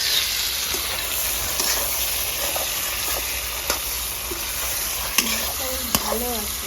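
Giant river prawns fry all together in hot mustard oil, a steady close sizzle with occasional sharper crackles and pops, and a brief spoken remark partway through.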